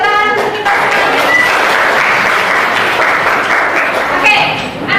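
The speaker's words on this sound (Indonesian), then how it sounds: "beri tepuk tangan untuk kita semuanya." Loud, close applause from a class of schoolchildren, dense clapping sustained for several seconds with children's voices calling out over it at the start and end.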